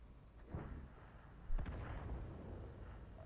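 Tank gun fire in an online tank battle video game from over 400 metres away: two muffled distant booms about a second apart, the second stronger, each trailing into a low rumble, fairly faint with no voice.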